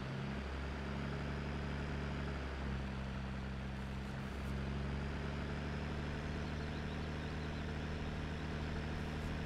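In a farming video game, a tractor pulling a ripper plow through a field makes a low, steady engine drone under load, continuous and fairly faint throughout.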